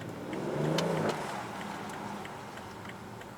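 A BMW M760Li with a V12 BiTurbo engine rolls slowly through city streets, a low, moderate engine hum swelling briefly early on and then settling into a steady drone with faint ticking, no voices.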